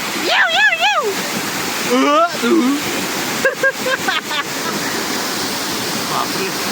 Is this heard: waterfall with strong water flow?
yes